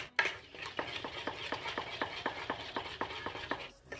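Banana muffin batter being stirred in a bowl, a steady rhythmic series of soft scraping strokes, about two per second, close and clear with no voices.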